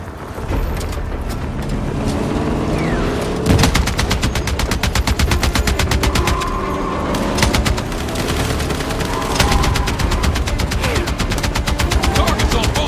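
Battlefield 6 campaign combat keeps up continuous rapid automatic gunfire, loud and close, with occasional heavier booms and a steady rumble of battle noise underneath for the whole stretch.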